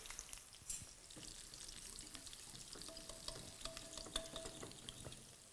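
Asafoetida (hing) fries in a pan for a mixed vegetable curry, with a soft, steady sizzle and light stirring clinks, quiet and close, with no voices.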